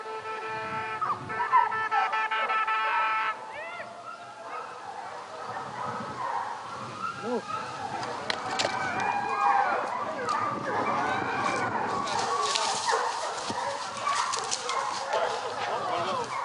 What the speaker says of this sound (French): Le sanglier d'attaque se souille, puis repart, suivi par les chiens qui n'ont jamais perdu la voix.